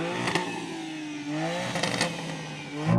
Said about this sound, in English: So I'm going to rev up this car and we'll see what it sounds like.